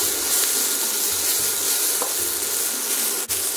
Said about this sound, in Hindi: सेम फ्राई हो रहा है